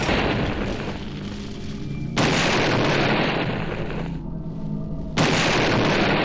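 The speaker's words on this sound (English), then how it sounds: "The grass cutter is pretty good at destroying inanimate objects." Grass cutter weapon tearing through inanimate objects such as dress forms in the Deadly Premonition video game, loud sustained grinding bursts that cut off and restart in long blocks.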